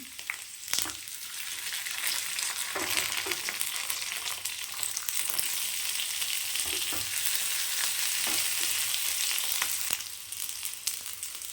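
Curry leaves frying in hot oil for a mutton curry give a continuous close sizzle, with occasional spatters and a few stirring scrapes along the way, and no one talking.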